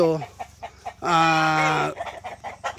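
Rhode Island Red hens, brooding in a breeding pen, clucking close by, with one hen letting out a long, drawn-out squawk in the middle amid quieter clucks and background chatter.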